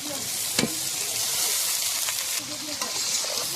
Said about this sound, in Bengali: তেল গরম হয়ে গেছে, দিয়ে দেব গাজর, গাজরগুলো সবই দিয়ে দেবো